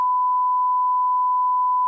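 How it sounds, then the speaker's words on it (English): A steady single electronic notification beep from a Ring doorbell alert, holding one clear tone for about two seconds, loud and alone with no talk. "I have a ring notification"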